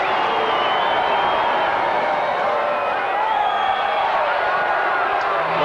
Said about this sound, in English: There's mainly booing in the background